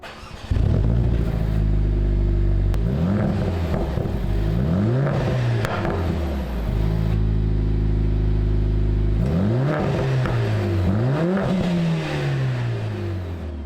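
A loud modified exhaust on a Mercedes-AMG CLA45 S revving close by, several rising throttle blips with a deep burbling idle between them.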